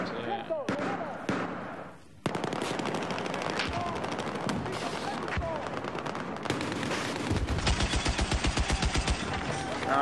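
Rapid bursts of machine gun fire ring out in Battlefield 4, loud and close. The gunfire breaks into clusters and pauses, then becomes a dense, rhythmic volley toward the end.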